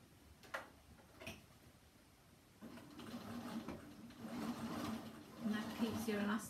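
A sewing machine hums and ticks quietly, stitching in the ditch on a jersey skirt, building to a steadier run toward the end.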